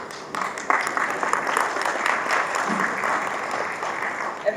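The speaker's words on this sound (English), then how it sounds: "a big round of applause to all our speakers and to our host Sujit" Audience applause for the speakers and host at a live event, a dense, steady wash of many hands clapping that carries on evenly throughout with no talk over it.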